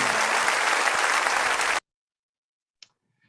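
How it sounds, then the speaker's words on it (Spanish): A church congregation claps together in loud, dense applause for almost two seconds, then it cuts off abruptly into near silence broken by a single faint click. "Débele fuerte ese aplauso a Él."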